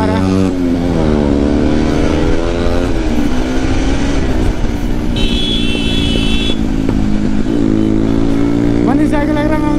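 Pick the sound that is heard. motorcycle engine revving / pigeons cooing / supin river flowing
motorcycle engine revving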